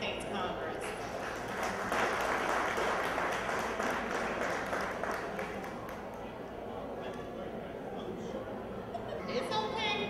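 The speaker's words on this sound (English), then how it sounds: "It's okay for you to clap for your own." Audience clapping at an election victory party in Houston, a dense continuous patter of many hands with crowd chatter and a voice talking over it.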